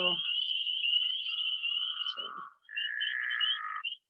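A high, sustained trilling frog call, then a lower rough snoring call of a pickerel frog, clear and fairly close with no other sounds.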